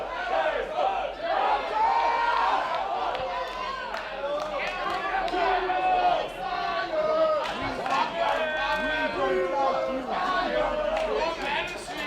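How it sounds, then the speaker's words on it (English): A wrestling crowd at a tables, ladders and chairs championship match chants loudly and rhythmically, a dense mass of voices rising and falling over about twelve seconds. "You can hear the crowd chanting for tables."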